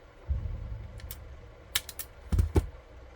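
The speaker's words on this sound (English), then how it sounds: "So first I have to cut this wire." Sharp snips from cutting through a speaker cable wire, a few close crisp clicks in two small clusters over a faint background hum.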